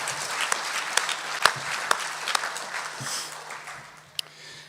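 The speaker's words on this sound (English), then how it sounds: "Let's give them one last round of applause." An audience at a livestock auctioneer championship awards ceremony gives a final round of applause, moderately loud clapping with scattered sharp individual claps standing out, thinning toward the end.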